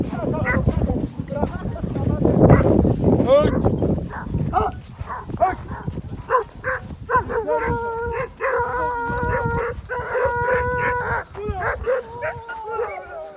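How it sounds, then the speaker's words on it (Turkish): Village dogs, including one costly purebred bought from Sivas, bark and howl loudly and nearby, with the howls rising into sustained wavering tones in the second half while people talk over them. "Güzel köpek değil mi?"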